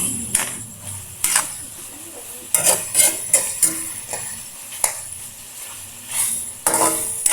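Chicken sautéing in oil in a cooking pot gives soft sizzling with intermittent metallic scrapes and clinks of a utensil against the pot, fairly quiet and close, with faint voices in the background.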